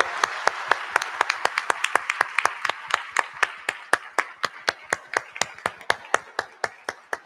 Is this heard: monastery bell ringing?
no